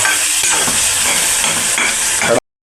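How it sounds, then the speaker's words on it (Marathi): Onion and tomato fry loudly in a pan, a dense close sizzle with scraping stirs throughout before cutting off abruptly. "कांदा टमाटा टाकलेला आहे आणि आता मस्तपैकी जरा फ्राय करून घेतो"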